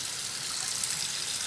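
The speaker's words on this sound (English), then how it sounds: "I am going to rinse the pan out a little bit" Tap water runs steadily into a pan as it is rinsed out after cooking barley, a constant close hiss and splash with no breaks and no voices.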